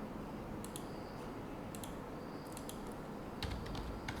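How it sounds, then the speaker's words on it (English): Keys on a computer keyboard are tapped out in a few small clustered bursts of light clicks over a steady hiss, quiet and close, with no talking. "Again, I shall type that word for you,"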